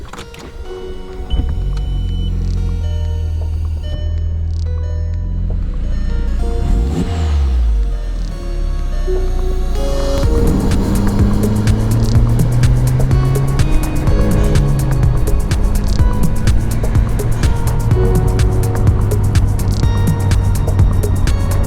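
A VW MK4 GTI with the 1.8T engine driving, its engine rumble steady and close at first, then louder and busier with road and cabin noise after about ten seconds, accelerating under boost.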